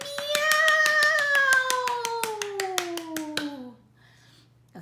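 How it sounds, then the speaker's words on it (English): Hands clap in a quick, steady rhythm, about seventeen crisp claps, during a children's storytime read-aloud, over a long falling vocal-like tone, then stop abruptly into quiet. "She clapped all night, she clapped all day"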